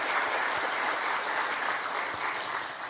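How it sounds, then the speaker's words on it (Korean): A church congregation claps together in dense, sustained applause. The clapping stays steady and fairly loud throughout, filling the room with no voices standing out. "우리 자축의 박수도 한번 올려드립니다."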